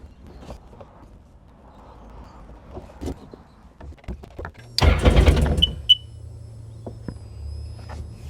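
A car engine cranks with a short, loud churning burst lasting under a second amid quiet clicks and knocks, followed by a low steady hum.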